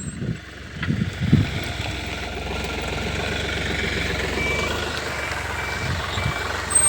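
Truck backing up with its reversing alarm beeping steadily over a rumbling idling diesel engine, the beeps repeating at a regular rhythm close by, with no talk.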